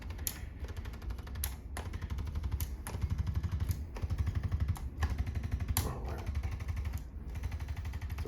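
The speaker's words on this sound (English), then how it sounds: "This big gun here is going to relax these big paraspinal muscles" A large percussive massage gun pounds the big paraspinal muscles along a patient's spine, a rapid mechanical rattle with regular short bursts and brief pauses, steady and close.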